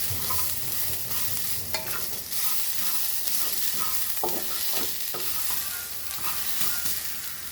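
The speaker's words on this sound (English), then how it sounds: "So we will roast all this together along with the" Ingredients roasting together with coconut in a pan for a Goan green brinjal masala, a steady dry sizzle with repeated scraping stirs of a spatula throughout, close and continuous.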